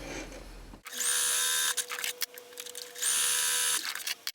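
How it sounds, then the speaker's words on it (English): A sewing machine stitches a long basting line along a dress sleeve end in two steady bursts of loud, even running with a pause between, close up and with no talking. "I'm going to run a baste along each end of my sleeve"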